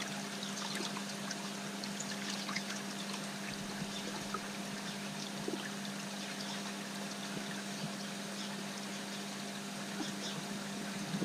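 Water flowing back into a koi pond drum filter, a faint steady trickle and wash with a low constant pump hum underneath, unbroken and heard from close by.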